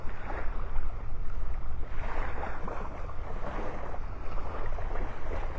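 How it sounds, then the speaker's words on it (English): Strong wind buffets the microphone on an open beach, a continuous loud rumbling roar with surf noise blended underneath, steady throughout with no voices. "The wind's blowing the camera."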